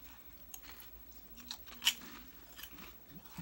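Tim's Thins Smoked Gouda potato chips are bitten and chewed up close, with a few quiet crisp crunches and one sharp louder snap midway amid soft mouth sounds.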